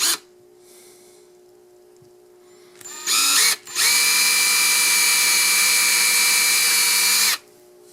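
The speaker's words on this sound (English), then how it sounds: "Drill you some pilot holes." A power drill bores pilot holes in wood, a short burst followed by a long, steady high whine that runs for about four seconds before cutting off, close and loud over a quiet background hum.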